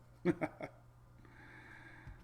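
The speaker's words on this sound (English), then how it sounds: "Louis is snoring very loud, by the way." Louis snoring loudly nearby: three short, rough snorting bursts in quick succession at the start, then a quieter steady background hum with a faint low thump near the end.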